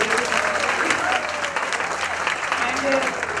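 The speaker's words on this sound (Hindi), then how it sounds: "उनके लिए भी एक जोरदार तालियां हम बोल रहे" Strong, sustained audience applause at the 2018 Rajasthan Film Festival award show, dense and continuous clapping from a large crowd with someone speaking over it.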